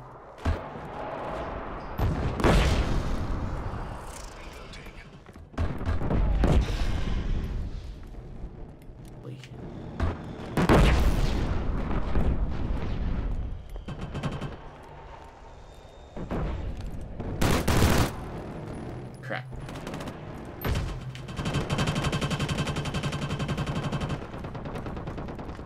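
Gunfire in a Killzone Shadow Fall team deathmatch on the Slums map: repeated loud bursts and single heavy shots with booming impacts over about 25 seconds, with a player talking throughout.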